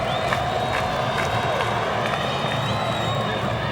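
A stadium crowd roars and cheers steadily at a 2002 college football game between Florida State and NC State, a dense sustained wash of noise lasting the whole stretch.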